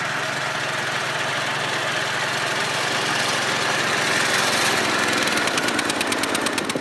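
A small gasoline snow blower runs steadily while its auger churns through snow about four inches deep, a loud, continuous mid-pitched engine drone with a faint rhythmic chatter building toward the end.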